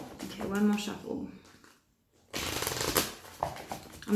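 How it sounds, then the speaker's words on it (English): A deck of tarot cards is shuffled by hand, giving quick riffling flutters that come in bursts. There is a short silent gap partway through, and a person talks over and between the shuffles. "One more shuffle."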